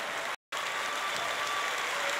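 Concert audience applauding the singer at her 40-years-on-stage concert, a dense steady wash of clapping briefly broken by a short dropout near the start.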